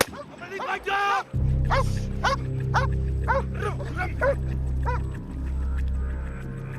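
Dogs of a game reserve's anti-poaching canine unit barking during training, a rapid run of loud, close barks and yelps over a low engine-like hum, with people talking and shouting.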